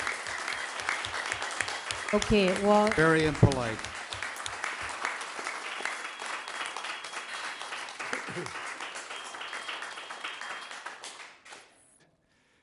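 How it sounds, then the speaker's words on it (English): A crowd at a City of Walnut council meeting applauds with dense, steady clapping that tapers off, while a voice speaks over it near the end. "Thank you for your applause."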